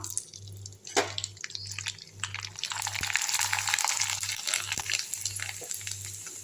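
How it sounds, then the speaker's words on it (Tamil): Rice murukku vathal dropped into hot oil in a pan, with a sharp clink, then a bubbling, crackling frying hiss that swells and holds steady under a low pulsing hum, close and moderately loud. "எண்ணெய் காஞ்சிடுச்சிங்க கொஞ்சம் கொஞ்சமாக எடுத்து போட்டு பொரித்து பார்த்துடலாம்"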